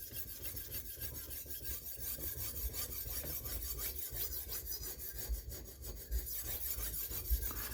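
A knife is sharpened by hand on a base, giving a steady rasping, rubbing scrape that runs continuously and close for the whole stretch, with no talking.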